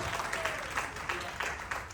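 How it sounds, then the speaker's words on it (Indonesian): A church congregation claps during a worship service, with a steady patter of many hands sounding moderately near and fairly quiet, and a faint voice running beneath it. "Beri tepuk tangan yang meriah kita"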